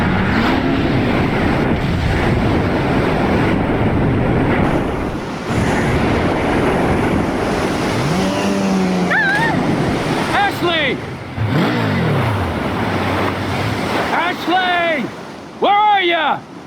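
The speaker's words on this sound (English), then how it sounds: "heavily pick up the pace on the jet ski, and I'm dead" Jet ski in Resident Evil 4 racing across the open ocean: a constant loud engine roar mixed with rushing wind and surf spray, with short rising game cries and effects near the end.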